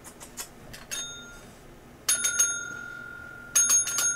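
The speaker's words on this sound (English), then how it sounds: "Can you ring that bell?" A kitten batting at a small bell sets off two bright, clear rings about a second and a half apart, each trailing a short metallic shimmer, after a few faint taps and clinks.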